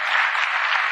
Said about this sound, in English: Like literally, like they're clapping.